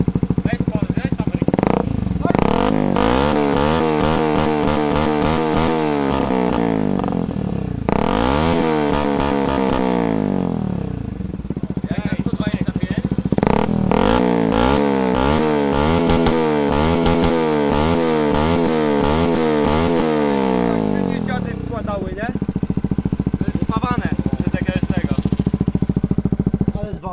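A WR 125 supermoto motorcycle engine idles and revs repeatedly, its pitch climbing and falling in several throttle bursts with a brief lull between them, loud and close, while people talk nearby.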